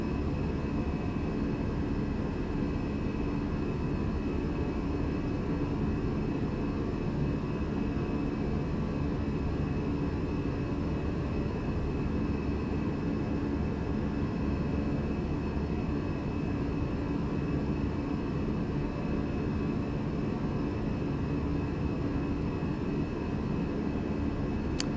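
Fenix A320 airliner engines in Microsoft Flight Simulator during the climb out of Palermo: a steady, loud engine roar with a constant whine, unbroken and alone for the whole stretch.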